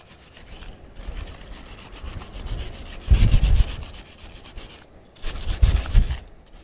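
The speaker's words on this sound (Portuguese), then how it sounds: "estamos fazendo a limpeza do cabo" Rubbing and scrubbing on a cable being cleaned before exothermic welding for a lightning protection system, with irregular bursts of harsh scraping friction, two stronger close strokes standing out among quieter brushing.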